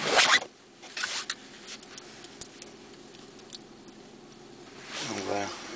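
An e-cigarette firing in short bursts at high wattage gives a faint, steady crackle and sizzle through the middle of the clip, set between louder handling clicks and rustles at the start and end.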